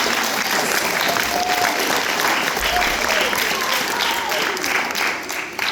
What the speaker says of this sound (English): Big round of applause for our chamber orchestra.